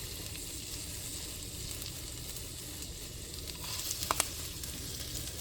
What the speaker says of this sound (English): add a little bit of curry leaves and add your onions.